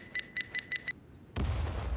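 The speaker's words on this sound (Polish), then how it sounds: "Jak widzicie, teraz wybuchła." An explosive charge planted during a raid in the survival game Hurtworld gives five quick, evenly spaced high beeps, then a brief pause and a sudden loud blast that trails into a sustained rumbling roar.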